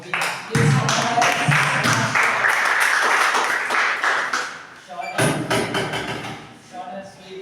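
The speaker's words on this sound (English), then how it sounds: "Please big applause to Mubina." Classroom audience in a spoken English class applauding a student called up to speak: a burst of clapping with thumps, loud and close, fading briefly near five seconds before another shorter round, with voices mixed in.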